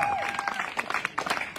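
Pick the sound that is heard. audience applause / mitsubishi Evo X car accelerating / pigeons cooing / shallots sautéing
audience applause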